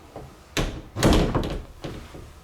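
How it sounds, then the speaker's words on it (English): A pair of closet doors in a newly built model home slide and bump open, giving several hollow thuds and rattles over about two seconds, close by in a quiet room. "You got a nice sized closet with 2 doors"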